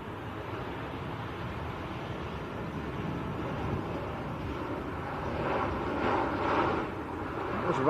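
A Ryanair jet from Valencia lands at Manchester Airport. Its distant, breathy roar swells for a few seconds over steady wind noise.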